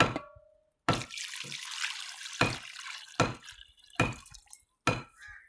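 Water splashes and pours in short bursts into a pan of fresh plums, close by, with brief gaps of near silence between the gushes.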